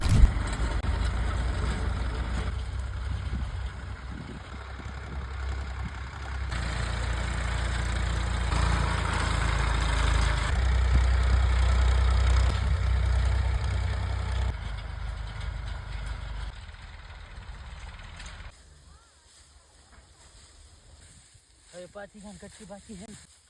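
Two tractors' engines rumble and idle steadily at close range with a low drone during a groundnut harvest, then the noise drops away toward the end, leaving quieter background sounds.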